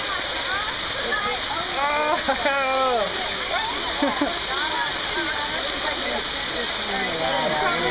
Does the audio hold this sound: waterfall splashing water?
yes